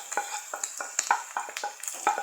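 Onion and pork fat (salo) frying in a pan, heard as quick, irregular scraping and clinking of a utensil stirring against the pan over a light sizzle, close and fairly crisp.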